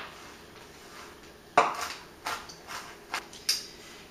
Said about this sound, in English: I'm going to coarsely chop about a ½ cup of peanuts here.